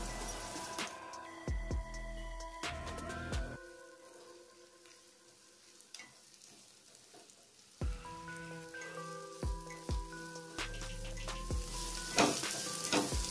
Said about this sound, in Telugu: తర్వాత క్యారెట్ క్యాప్సికమ్ అన్నీ వేసుకొని కలుపుకోవాలి.